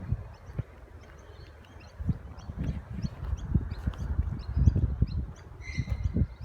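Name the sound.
many birds calling outdoors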